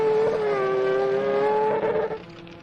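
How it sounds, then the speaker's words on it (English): A triple-rotor rally car engine screams at high revs on a gravel special stage of a South Canterbury rally, a loud sustained tonal wail with shifting pitch that drops off near the end as the car passes. "Just hear that triple rotor screaming"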